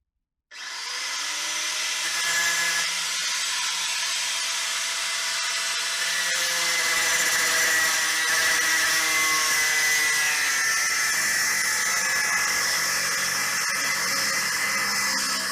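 A power tool cuts off a spinning carriage bolt while seats are upgraded in a 1964 panel vehicle. It spins up sharply and then holds a loud, continuous grinding whine close by, with its pitch slowly drifting.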